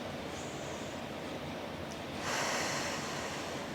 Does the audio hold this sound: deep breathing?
yes